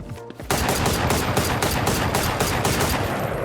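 Rapid automatic gunfire in the video game Valorant, a dense burst of evenly spaced shots continuing for about three seconds, loud and close with a harsh, sustained crackle.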